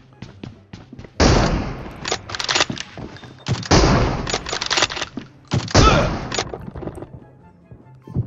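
Bursts of automatic gunfire from a PUBG Mobile match, three long loud volleys with a few short single shots between them, close and sharp, with faint voices in the background.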